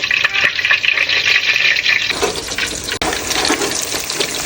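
Pieces of chicken lowered into a pot of hot oil for deep frying, giving a loud, steady sizzle and bubbling hiss that surges fuller partway through and carries on without talk.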